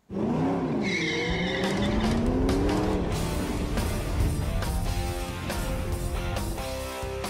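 A 2005 Aston Martin DB9's V12 engine roars continuously with revving pitch rises, accompanied by loud tire squealing, close and sustained throughout.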